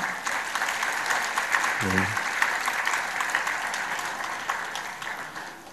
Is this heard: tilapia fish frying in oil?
no